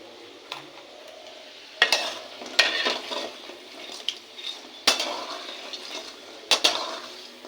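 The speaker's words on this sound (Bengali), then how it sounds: "আর যেটুকুনি আছে এটুকুনি ভেজে নেবো" Black gram lentil fritters frying in oil, with a soft, steady sizzle broken by several sharp clinks and scrapes of a utensil against the pan, close by and with no voices.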